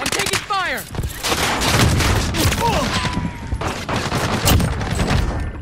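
Rapid gunfire bursts in the video game Warzone, loud and dense, with sustained automatic fire and shots layered over game effects and brief voice chatter.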